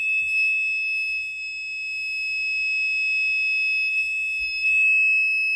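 A newly installed school fire alarm system under test sounds a steady, piercing high-pitched electronic tone that holds unbroken, loud and close, with faint low rumbles underneath.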